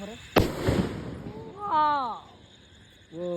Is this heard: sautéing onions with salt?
no